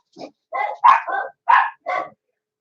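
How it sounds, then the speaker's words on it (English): Dogs bark in a burst of six sharp, close barks in quick irregular succession, loud against a silent background. "the dogs thought there was like an armed intruder coming in the door the way they were barking"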